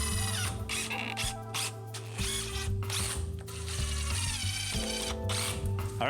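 A hand driver fitted with a Robertson square bit drives 2.5-inch screws, giving a run of steady ratcheting clicks under continuous background music.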